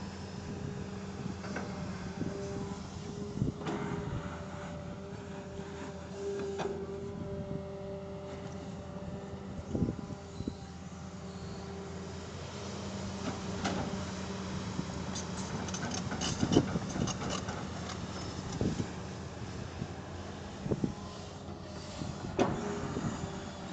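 A Hitachi 200-5G excavator with an Isuzu engine scoops laterite soil, its engine droning steadily at a low, unrevved pace with intermittent metallic clanks and scrapes from the bucket.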